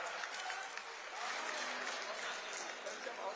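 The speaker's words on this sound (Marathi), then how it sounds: "जोरदार टाळ्या शृंगारे साहेबांसाठी वाजवल्या पाहिजेत" Crowd applause at an outdoor highway inauguration event in Ahmedpur, Maharashtra, a dense steady wash of many hands clapping at a distance, continuous with no pauses.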